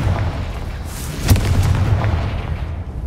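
Confringo spell blast in the video game Hogwarts Legacy: a single sharp booming burst about midway, rising over a steady low game ambience and rumble, no voices.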